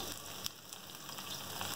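Chopped medium onion frying in hot oil for dal, a continuous soft hiss and crackle of sizzling with an occasional faint tick, steady and fairly quiet.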